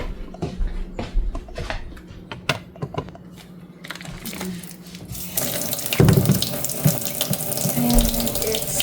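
Hot water runs from a tap to soak chicken, a steady rushing splash that starts partway through after some light clicking and clattering.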